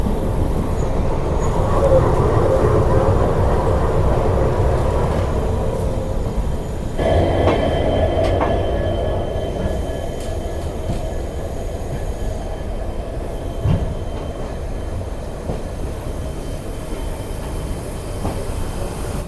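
Mussoorie Express LHB train rolling through Delhi Junction, a steady loud rumble of wheels on rails with a rattling carriage interior, easing slightly partway through, with faint occasional wheel squeal and clunks.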